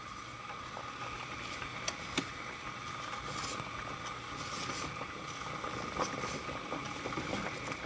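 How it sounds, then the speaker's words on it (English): Salted water with capellini pasta in it simmers at a steady boil, a faint continuous bubbling hiss with scattered small pops and ticks throughout, heard up close with no voices. "You're going to want to boil your pasta in salted water to your liking."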